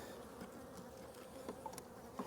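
Honey bees buzz steadily around an open brood frame set in a hive box, a dense close hum with brief louder passes of individual bees.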